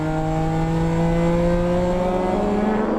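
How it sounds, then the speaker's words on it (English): Racing cars lapping Spa Francorchamps in a 2015 Supercar Challenge race, including BMWs and a Lotus, pass through the bus stop chicane, engines droning loudly and steadily with rising pitch throughout. "Dennis de Groot goes by Robert Vandenberg's red and white BMW in the bus stop"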